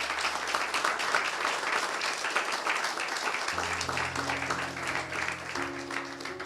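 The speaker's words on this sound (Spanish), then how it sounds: "¿Cuánto le dan un fuerte aplauso al Señor?" A church congregation applauds loudly and steadily, a dense wash of clapping that fills the room, with sustained organ or keyboard notes entering partway through beneath the applause.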